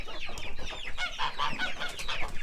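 Meat chickens clucking steadily in a backyard pen beside a vegetable garden, several birds overlapping in busy, close, moderately loud chatter with no talk.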